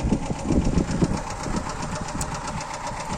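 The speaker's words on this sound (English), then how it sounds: "But as you can see, this engine runs very good." The 0.9-litre engine of a 1993 Fiat Cinquecento runs at a steady idle up close, a loud, even mechanical chug with fine rhythmic ticking throughout and no talking over it.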